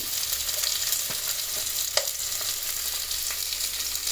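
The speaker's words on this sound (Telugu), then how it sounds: "జాపత్రి వేస్తున్నానండి." Mace dropped into hot oil fries with a dense, steady sizzle and a few faint ticks and pops, close and continuous with no talk, while whole spices are tempered for bagara rice.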